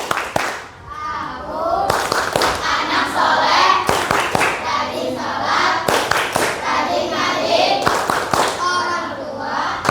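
Children chant the 'tepuk anak soleh' clapping rhyme in a classroom, their sharp rhythmic hand claps punctuating the sung words in a quick repeating pattern.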